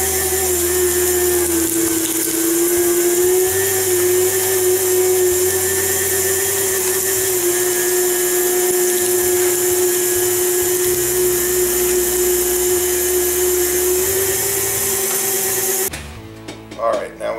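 A meat grinder runs steadily with a loud motor whine as slightly frozen pork shoulder is fed through for venison summer sausage, droning without a break until it cuts out near the end.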